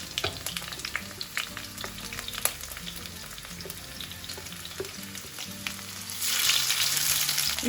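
Onions and bell peppers fry in hot olive oil in a pan, giving a steady close sizzle with scattered crackles and stirring scrapes, and the sizzle swells louder near the end.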